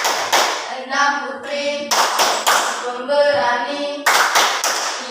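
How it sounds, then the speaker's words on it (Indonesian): A class group claps a rhythmic chant for group 1 in a school lesson, bursts of sharp hand claps in a patterned beat mixed with chanting voices, close and loud. "Oke, tepuk tangan untuk kelompok 1."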